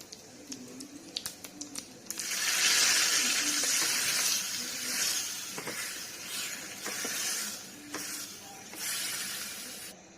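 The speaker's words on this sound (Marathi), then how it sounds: "थोडीशी तडतडू द्यायची।" A few light pops, then a loud hissing, spluttering burst as cumin and mustard seeds crackle in hot oil, fading into softer sputters.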